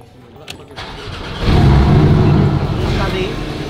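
A car engine cranks and catches after a moment, then settles into a loud, rough idle close by, with a voice talking over the start.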